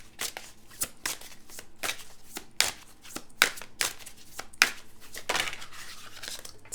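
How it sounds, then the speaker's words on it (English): Tarot cards are shuffled and drawn at close range, a series of sharp riffling snaps and papery flicks coming in quick irregular bursts about every half second, with soft crinkling in between. "let me get two cards out."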